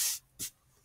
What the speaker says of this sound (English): I have kind of a squirt bottle, and I use that to water it